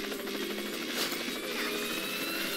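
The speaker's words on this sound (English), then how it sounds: "This is where the helicopter breaks." A helicopter engine in the game Worms W.M.D, a loud, steady whirring buzz with rapid rotor chop that holds at an even level throughout.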